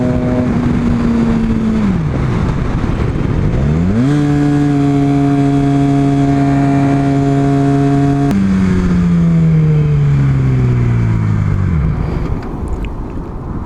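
A Yamaha R6 motorcycle engine runs loud and close with its revs dipping and rising, then winds down and cuts out near the end, leaving quieter background noise.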